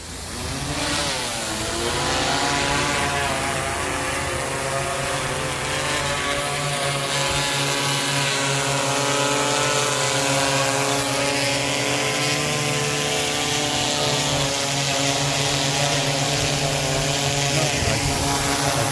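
A 911 rescue service drone flies over the Pambak river during a search, its rotors giving a loud, steady buzzing whine that rises at the start and then holds a constant pitch throughout.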